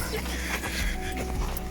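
A dog, a malamute or wolfdog, whimpers and gives short yips at the start of a mountain hike near the Zinal ice cave, brief whines breaking through over a steady low rumble while people talk close by.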